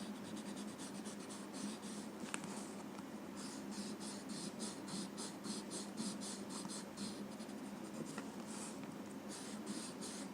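A chalk pencil scratches across paper while highlighting a Zentangle ink drawing. Steady, close, dry rhythmic strokes continue without a break for about ten seconds.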